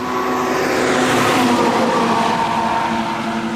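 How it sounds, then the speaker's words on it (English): A heavy coal truck roars past close by, a loud continuous engine and road rumble that swells and stays steady throughout. "So we'll let this coal truck go by"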